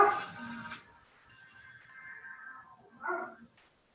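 A dog barks and whimpers a few times, fairly close, with quieter stretches between the bursts.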